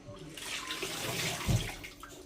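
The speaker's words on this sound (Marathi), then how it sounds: "तर ह्यामध्ये मी आधी पाणी टाकणार आहे।" Water pours continuously into a cooking pot nearby, a steady splashing rush that swells slightly midway.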